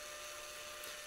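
Drill boring a hole through a small wooden furniture-making mallet with a 10.5mm bit, a steady high whirring hum, faint and continuous throughout.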